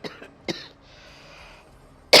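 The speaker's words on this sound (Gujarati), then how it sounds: "ઉધરસ પણ કેટલી કયાગરી છે જોવો ને" A woman working in a home kitchen gives three sharp coughs, two close together at the start and a louder one at the end, with quiet between them.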